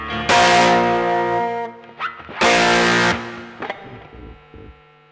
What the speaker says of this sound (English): we go into the chorus and we really crank up the distortion on this bit